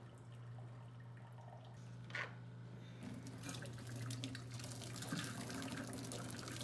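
Tap water pours steadily into a kitchen sink and runs down the drain, a continuous close splashing hiss that grows fuller partway through, with no talking.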